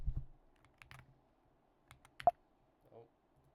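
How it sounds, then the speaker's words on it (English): Scattered clicks on a computer keyboard, a few separate keystrokes close by but faint, with quiet pauses between them. "let me type it in"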